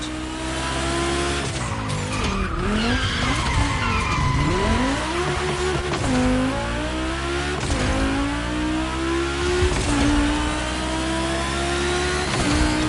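Volkswagen race cars on a track in The Crew Motorfest racing game roar and rev continuously, with repeated long tire squeals and skids as engine pitch sweeps up and down.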